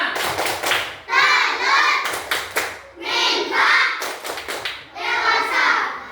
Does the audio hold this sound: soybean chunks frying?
no